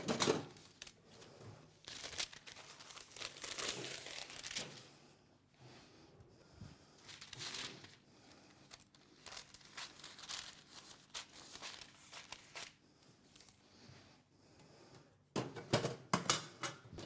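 Sheets of paper crinkle and crumple in bursts while a baker sets croissants aside and prepares bread dough, with rustling and handling noises coming and going close by and some louder crackling near the end.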